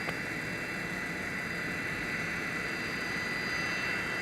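A Delta airliner jet taking off from runway 17 at Minneapolis–St. Paul airport in winter gives a steady, moderately distant engine roar with a faint high whine and no talking.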